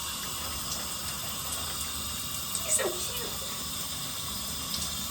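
Tap water runs steadily into a sink or basin for hair washing, a quiet continuous hiss with a brief splash partway through.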